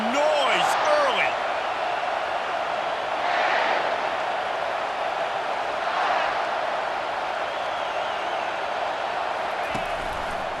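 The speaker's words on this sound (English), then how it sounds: "This crowd bringing the energy and noise early." Stadium crowd in the video game College Football 25 keeps up a steady, loud roar with broad noise that swells twice midway, as if the fans surge, and holds without a break to the end.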